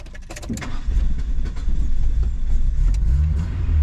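Keys jingle and click, then a small 1980s hot hatchback engine cranks and catches, settling into a steady, close rumbling idle.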